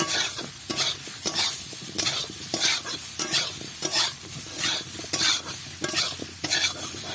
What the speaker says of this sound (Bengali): ভালো করে এটাকে কষিয়ে নিতে হবে